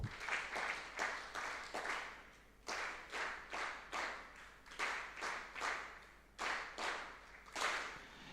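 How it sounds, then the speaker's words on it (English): A conference audience at an insurance brokers' event in Mbarara, Uganda claps in an organized rhythmic pattern, repeated bursts of fast synchronized clapping separated by short pauses, loud and full-room. "Platinum sponsors need to receive a clap that is thoroughly organized"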